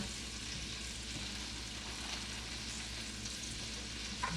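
Butter sizzling in a hot pan alongside steaks, a soft steady hiss held quietly throughout with a faint clink at the end and no voices.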